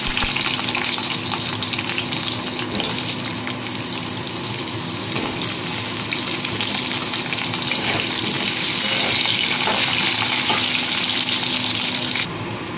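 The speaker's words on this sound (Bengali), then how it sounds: "আলুগুলোকে ছেড়ে আগে ভেজে নেব।" Potatoes frying in hot oil in a home kitchen, a constant loud sizzling hiss with a faint steady hum underneath and no speech, continuing evenly before cutting off near the end.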